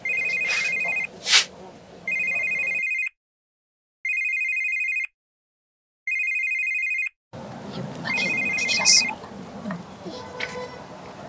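A telephone rings in a steady electronic pattern, four evenly spaced bursts about a second long separated by gaps, with some background noise and brief voices before and after the rings.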